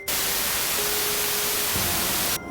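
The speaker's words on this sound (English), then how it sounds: "made the loud staticky noise you hear in like a" A television blasts loud, harsh static as a dense hiss with a faint steady hum running through it, cutting in abruptly and stopping just as suddenly after about two seconds.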